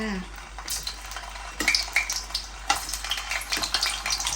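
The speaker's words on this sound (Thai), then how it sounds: "ตอนนี้เราก็จะเอาลูกชิ้นลงทอดนะคะ ให้น้ำมันร้อนก่อนค่ะ" Homemade Thai meatballs frying in a pan of hot oil, a steady close sizzle broken by scraping stirs and clinks of a utensil against the pan, without talk.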